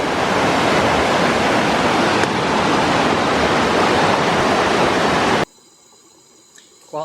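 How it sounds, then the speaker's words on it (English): A little creek pours through a road culvert and drops about 12 feet, a loud continuous rush of water that cuts off abruptly near the end, leaving faint quiet background. "The little creek runs through a culvert underneath the road right here."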